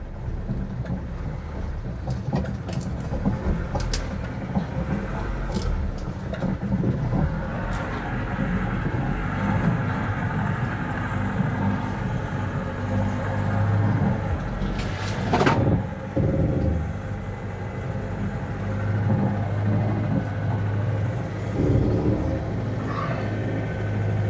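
A Lada Niva 4x4 drives down and out of a garage, its engine a steady low rumble throughout, close and continuous, with a few brief knocks and clunks along the way.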